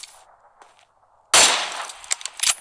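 Gunfire strikes a frying pan in the PUBG Mobile video game: quiet murmur, then a sudden loud burst of shots with sharp metallic impacts and a few trailing cracks near the end.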